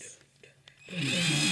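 A power drill whirs up and runs steadily at close range driving carburetor bolts on a 163cc Briggs and Stratton engine, a loud continuous buzzing after a few quiet taps and clicks.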